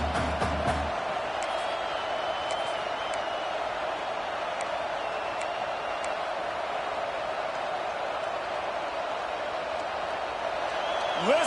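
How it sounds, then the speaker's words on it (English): Football stadium crowd roaring for the home defense, a dense, sustained wall of cheering and shouting at constant loudness with a few whistles over it. "Listen to this crowd just shaking the girders of this place, trying to help their defense."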